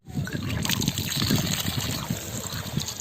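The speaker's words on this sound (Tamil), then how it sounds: "எங்கள் ஊர் கொள்ளிடாத்து தண்ணியில் அலசிக்கிறோம்" Mushrooms swished and rinsed by hand in Kollidam river water, a close continuous trickling and sloshing of splashes with a faint background hiss.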